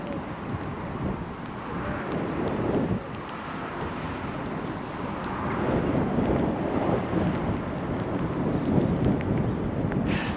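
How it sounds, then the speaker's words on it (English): Steady low roar of wind buffeting a microphone near wind turbines in a country park, rumbling and gusting throughout, growing a little stronger toward the end, with no voices. "Can probably hear the wind coming through the microphones there."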